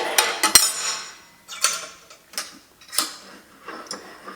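A combination wrench tightens a vise base assembly, giving sharp metallic clicks and clinks, one hard snap near the start, then several spaced lighter taps, close and fairly faint.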